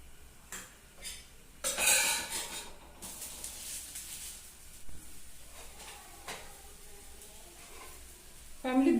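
Rice roti cooking on a pan gives a bright hiss of sizzling in short bursts, with soft clinks of utensils, quiet rustles and light handling noises in a home kitchen.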